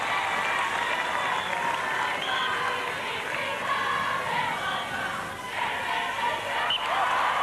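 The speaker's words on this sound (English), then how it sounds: "Just listen to the Kiwis in the crowd." New Zealand supporters in the crowd at the 1987 Netball World Cup final against Australia cheer and applaud in a loud, continuous roar that fills the arena and swells slightly toward the end.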